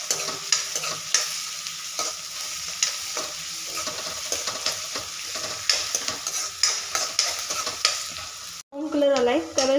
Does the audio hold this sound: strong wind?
no